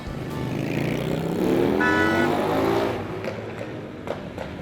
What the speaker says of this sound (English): Bikes are leaving.